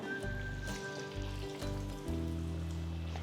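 Thavala vadai batter sizzles steadily in hot oil, a close, continuous frying crackle with a low hum running beneath it.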